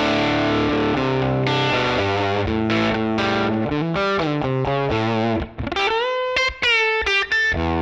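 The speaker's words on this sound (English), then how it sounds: "Now I've moved over to my Fullerton Norm amp model here, and this is going to pair up with this new 112 Fullerton cab." Distorted electric guitar played through a Line 6 Helix Fullerton amp model and 112 Fullerton cab, miked with a dynamic mic, rings out in sustained chords followed by a run of quicker, choppier notes and bends.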